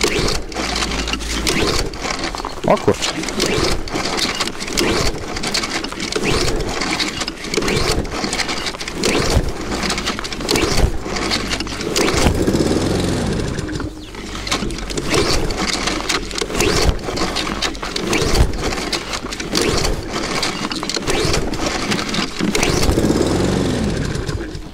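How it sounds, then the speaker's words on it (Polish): A Husqvarna lawn mower with an automatic choke is pull-started at -18°C and then runs steadily, its engine droning loudly and continuously nearby with a short spoken exclamation. "tylko przyciskamy hamulec bezpieczeństwa i pociągamy za linkę startera"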